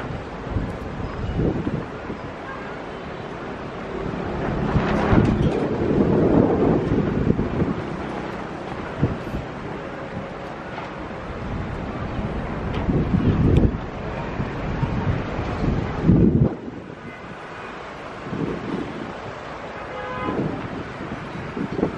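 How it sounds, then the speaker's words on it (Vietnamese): Strong wind buffets the microphone outdoors in a garden during a monsoon gust, a loud continuous rumbling roar that swells and dips over about twenty seconds, with surges around the middle and near the end. "trời gió to thế"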